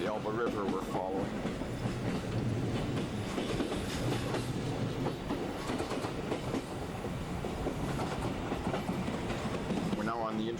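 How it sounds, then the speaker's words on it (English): The Intercity 175 from Prague to Hamburg running along the Elbe River in 1992, a steady rolling rumble with rhythmic clickety-clack of wheels on rail joints, with voices talking over it. "We're now on the Intercity 175, the Port of Bohemica, which goes from Prague to Hamburg."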